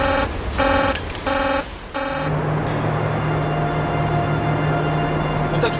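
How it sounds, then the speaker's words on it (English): Control room alarm at the Chernobyl nuclear plant sounds in loud, harsh buzzing pulses, four in quick succession, then gives way to a steady drone and room noise. "Another alarm."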